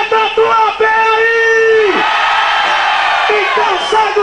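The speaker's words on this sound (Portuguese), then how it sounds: "Eu quero ouvir o grito da escola campeã do carnaval!" A samba school crowd at a live carnival event shouts its cry in loud unison, with sustained yells and whoops forming a dense wall of voices that stays strong throughout.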